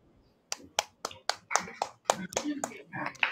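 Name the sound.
audience applause for talk show guest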